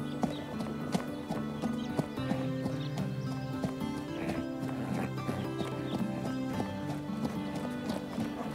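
A horse trots with a steady clip-clop of hooves and a faint whinny, half hidden under a loud, continuous musical score.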